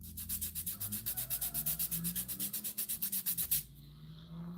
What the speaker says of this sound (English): I'm actually sanding my fingers with 80 grit sandpaper.